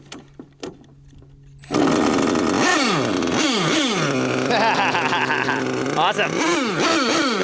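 A gas-powered Losi LST XXL2 1/8 scale RC truck engine starts up after a few quiet clicks, then buzzes loud and close, its pitch repeatedly revving up and dropping back in rising-and-falling sweeps.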